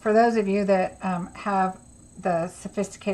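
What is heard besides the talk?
No distinct noise like a dog, phone or traffic.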